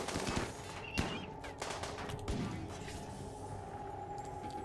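Gunfire in the colony game RimWorld Alpha 17 during a fight with mechanoids such as a centipede, a few distinct distant shots in a muffled battle din, with a steady hum underneath.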